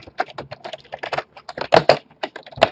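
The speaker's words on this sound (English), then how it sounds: "So we can type in country" Fingers type on a computer keyboard while entering code in RStudio. Rapid, close key clicks run continuously with an uneven rhythm, and a few heavier keystrokes stand out.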